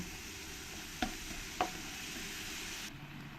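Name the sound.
ground cumin, coriander and chili powder being stir-fried in a pan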